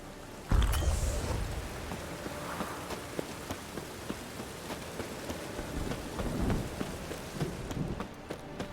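Steady rain falls in The Witcher 3, with a loud thunder crack near the start, then a continuous patter of drops and low rumbling throughout and no voices.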